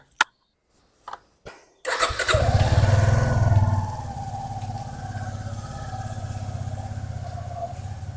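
A motorcycle gives a few short starter clicks, then its engine catches with a loud burst and settles into a steady, close idle that runs on alone.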